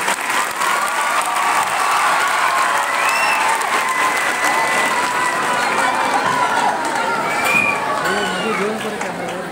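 Students seated at a painting competition event in Navi Mumbai give a guest sustained, dense applause that stays loud and even throughout, with no pause in the clapping.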